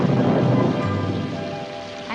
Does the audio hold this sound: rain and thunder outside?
yes